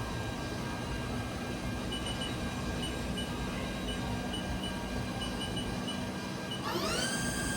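A 2006 USA-built HAAS TL-2 CNC toolroom lathe spindle turns at 500 RPM, giving a steady, even whine with a constant broadband hum and no talk. Near the end a rising tone sweeps upward as the speed changes.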